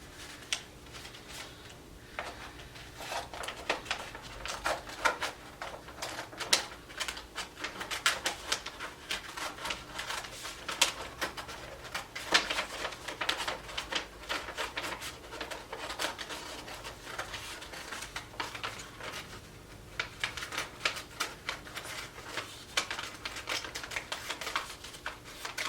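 Scissors snipping through a paper cone, a long run of faint, crisp, irregular clicks and cuts heard up close with no talking.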